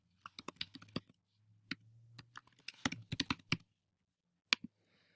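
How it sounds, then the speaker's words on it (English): A name is typed on a computer keyboard, scattered crisp key clicks in short irregular runs with silent gaps, close and quiet with no talking. "Go back here and then type in the name."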